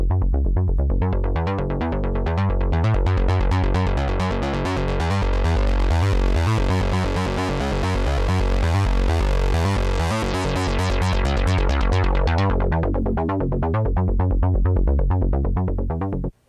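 Punchy lead bass line from a Novation Peak synthesizer in the style of a specific track, a driving repetitive throbbing pattern with steady rhythmic pulses that builds, sustains loudly and cuts off abruptly.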